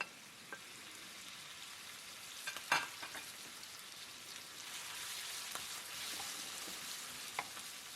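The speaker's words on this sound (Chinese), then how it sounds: "接着进行翻炒。" Cut lamb stir-fried in a wok with ginger and garlic in hot oil, giving a steady loud sizzle with a few sharp scraping clacks of the spatula, no voices.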